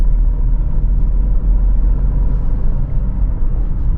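A 2022 Alfa Romeo Stelvio Quadrifoglio with an 8-speed automatic gives a loud, steady, low engine rumble from the cabin, running continuously with no talking.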